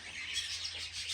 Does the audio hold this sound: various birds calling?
yes